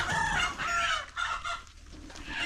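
A rooster crows loudly and close by while hens cluck around it on a small farm where poultry is kept below and sheep above.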